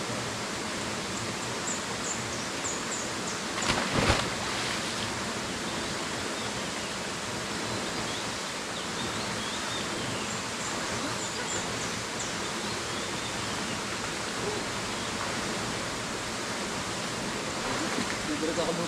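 Steady broadband rush of a waterfall, one of three falls at a swimming spot, filling the scene evenly at close range with a brief louder splash near the start.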